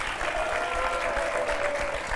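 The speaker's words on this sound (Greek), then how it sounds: "θα δώσω στο κοινό ένα πολύ θερμό χειροκρότημα" Warm audience applause at a quiz game show, a dense, even wash of clapping at moderate level with a faint tonal whine running underneath.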